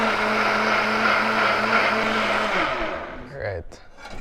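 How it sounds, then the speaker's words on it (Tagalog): A kitchen blender whirs loudly and steadily, smoothing a Filipino recipe mixture, then winds down and stops near the end, leaving a few faint clicks and handling sounds. "we're gonna try to improvise and try to make it smoother using this blender."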